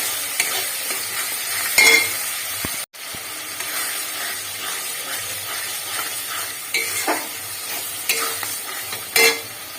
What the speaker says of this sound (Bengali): পোস্ত বাটা দিয়ে কষতে থাকবে, কাঁচা গন্ধটা যাতে কষতে চলে যায়